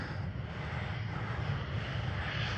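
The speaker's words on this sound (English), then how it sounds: "This is Air Arabia Morocco with an Airbus A320." A distant Air Arabia Morocco Airbus A320 at Schiphol Amsterdam gives off a steady jet engine rumble, with a broad, even roar and a strong low-end drone held throughout and no voices.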